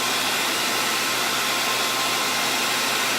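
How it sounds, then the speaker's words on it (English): A hair dryer blows steadily and loudly for a few seconds, a continuous broadband whoosh with no talking over it. "your hair dryer, and we're gonna, hold on, it's gonna be noisy for a second"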